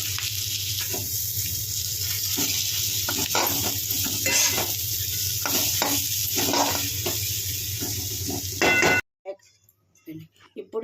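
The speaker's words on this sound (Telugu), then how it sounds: "ఈ విధంగా మిగిలినటువంటి పొడిని వీటిపైన కలుపుకొని కొంచెం వేయించుకోవాలి" Stuffed okra (bhindi) sizzles loudly in a pan as leftover spice powder is stirred in, with steady frying hiss and repeated scraping, clinking stirs for about nine seconds before the sound cuts off to near silence.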